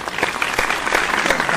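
An audience at a Hindi poetry recital (kavi sammelan) in Indore claps after a poem ends, a steady dense patter of many hands at moderate distance, filling the short stretch with no talking.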